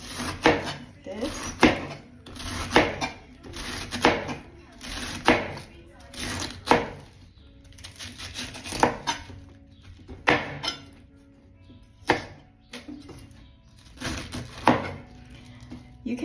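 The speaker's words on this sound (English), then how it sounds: "Slice it thin," A knife slices vegetables thin on a cutting board, sharp chopping knocks landing in a steady repeated rhythm with short pauses, close up, while a person talks between cuts.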